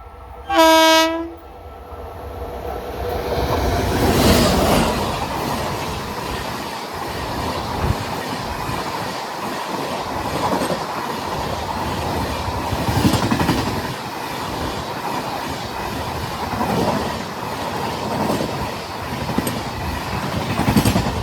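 Train 12723, the Hyderabad–New Delhi Telangana Superfast Express, races through Kottapally station without stopping. A single loud horn blast opens, followed by a long, roaring rush of wheels and wagons with rhythmic clatter, close and sustained.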